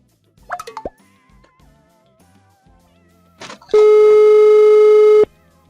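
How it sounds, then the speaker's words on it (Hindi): A phone call connects with a few soft clicks and plops, then a single loud, steady electronic ringing tone sounds for about a second and a half before cutting off, with no voices. "पापा को फोन करती हूँ"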